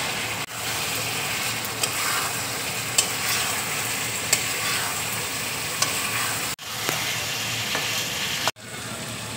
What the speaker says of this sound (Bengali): এবার আমি আলুটা দিয়ে দিচ্ছি।